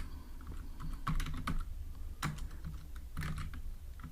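Typing on a computer keyboard while entering a PostgreSQL query, close and moderately loud, with bursts of rapid keystrokes and short pauses between them over a low background hum.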